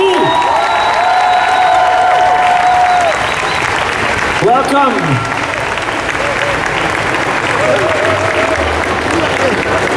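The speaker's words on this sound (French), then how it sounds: "s'il vous plaît, on l'applaudit." A convention crowd at the Paris Manga Smallville panel applauds loudly and continuously, with cheering and a voice over a microphone heard through the clapping.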